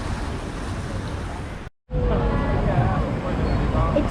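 Fast-flowing river water rushes steadily around the Congo River Rapids ride at Alton Towers, a loud, continuous wash with a brief dropout partway through before the torrent resumes.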